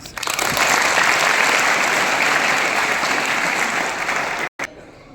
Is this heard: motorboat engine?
no